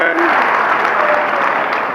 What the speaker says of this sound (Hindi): तो एक बार जोरदार इस समय में ताली पीट दो।